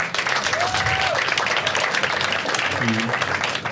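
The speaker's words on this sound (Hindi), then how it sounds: "और एक बार सब लोग अपने आप के लिए ताली बजा दो।" A stand-up comedy audience claps and applauds steadily for several seconds, a dense patter of hands close by, with voices faintly audible underneath.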